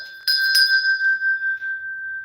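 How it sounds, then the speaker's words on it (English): A small hand bell is struck twice in quick succession, its bright, pure tone ringing on and slowly fading, close and clear with no talk. "You can hear my bell say ding, ding, ding."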